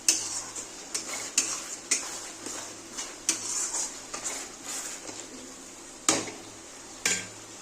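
A spice paste with Kashmiri chili powder sautés in a pan for a potato chicken curry, a soft continuous sizzle broken by repeated sharp scrapes and taps of a spoon against the metal.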